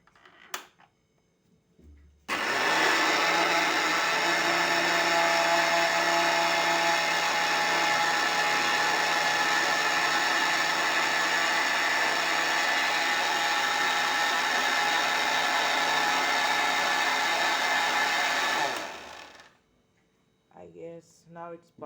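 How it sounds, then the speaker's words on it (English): An electric mixer grinder blends purple cabbage with water, starting abruptly after a moment of quiet and running as a loud, steady, high whirring roar for about sixteen seconds before winding down. "So I'm gonna use here a electrical mixture grinder"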